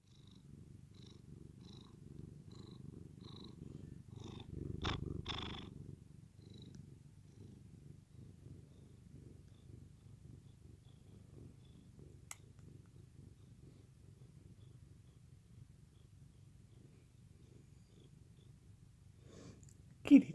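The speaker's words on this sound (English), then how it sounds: "That purr." Cat purring by a fire indoors, a soft continuous rhythmic rumble close by, running steadily throughout with a brief rustle midway and no talk.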